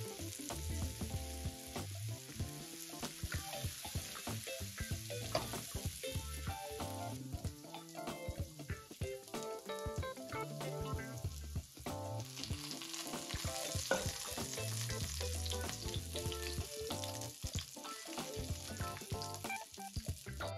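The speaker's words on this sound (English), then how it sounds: "adding some portobello mushrooms to our pan to saute in bacon fat" Sliced portobello mushrooms sauté in bacon fat in a pan, giving a steady close sizzle with irregular crackles and occasional stirring scrapes throughout, with no talking.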